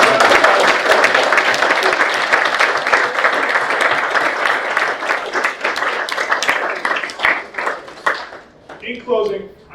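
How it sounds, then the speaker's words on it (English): Audience at a Terrier Hall of Fame induction ceremony giving a sustained round of applause, dense clapping that thins out and fades near the end. "have one more huge round of applause"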